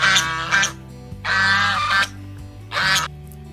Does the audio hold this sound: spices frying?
no